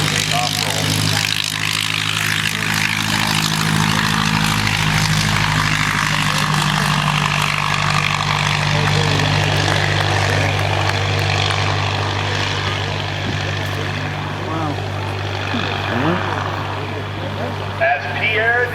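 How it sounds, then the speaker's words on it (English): A World War I era Curtiss Jenny biplane at the Rhinebeck air show drones on its takeoff roll, a steady loud propeller and engine roar, with an announcer talking over it. "we introduce you to this old Rhinebeck Curtiss Jenny on takeoff roll"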